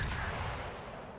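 Warship main guns firing in World of Warships, a single heavy, booming blast that rolls out and slowly decays over about a second, with no voices.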